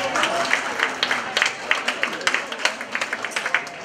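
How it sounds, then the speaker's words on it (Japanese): A small audience at a Christmas-season live music show in Tosa Gyoen claps in a scattered, uneven patter of sharp hand claps that holds steady for several seconds at moderate loudness. "拍手お願いします。"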